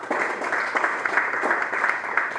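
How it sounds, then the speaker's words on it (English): A comedy roast audience breaks into steady, fairly close applause, a dense patter of many hands clapping throughout. "Round of applause for Honey Loquacious one more time."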